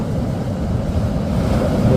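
Powerful surf roars continuously at Namhangjin beach in Gangneung, a dense rush of breaking waves with wind buffeting the microphone, loud and close.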